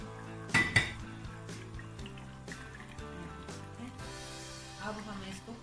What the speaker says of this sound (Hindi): अभी आलू डाल देंगे